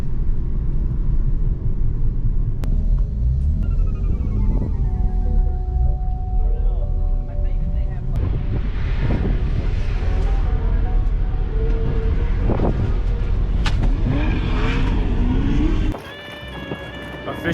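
Infiniti G37s sedan with a six-speed manual launching on a drag strip beside a Cadillac in the next lane, a loud sustained engine roar with rising gear pulls and rumble, which cuts off abruptly near the end.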